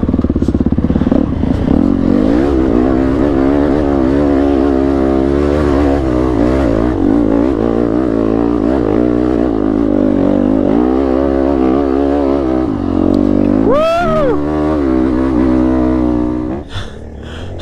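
A motorcycle rides and revs loudly and steadily for most of the stretch, its engine note wavering, with a sharp rev spike near the end before the sound cuts off.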